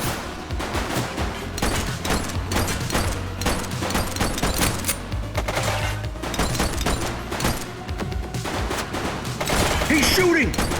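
Sustained gunfire in the video game The Precinct: dense volleys of sharp, close shots crackling continuously for about ten seconds, with a voice calling out briefly beneath the shooting.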